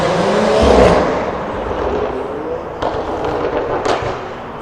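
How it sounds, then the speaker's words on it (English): Cars approach along a road in a broad rushing roar that swells early, then eases into a steady wash, broken by a couple of sharp pops. "I hear some cars coming up here today"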